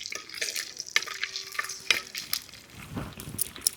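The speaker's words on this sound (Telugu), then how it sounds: "ఇప్పుడు బిర్యానీ ఆకు ఒకటి చెక్క లవంగా వేసుకుందాం కొంచెం వేగనిద్దాం వీటిని" Bay leaf, cinnamon and cloves fry in oil in a pan, with busy, close spoon-stirring clatter over a light sizzle throughout the short stretch and no voices.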